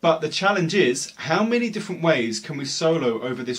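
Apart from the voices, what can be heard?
None of the usual background noises is heard.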